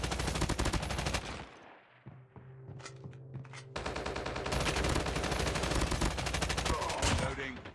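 Gunfire in Call of Duty on the Alcatraz map, dense loud bursts of automatic fire up front, a brief lull with lighter shots and mechanical clicks, then sustained rapid shooting resumes to the end.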